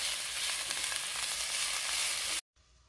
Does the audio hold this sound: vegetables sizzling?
yes